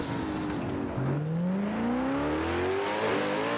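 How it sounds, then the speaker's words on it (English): A car in a video game revs, its engine tone climbing steadily in pitch after a short lull and staying loud and continuous to the end. "Let me get a quieter car because the thing is too loud."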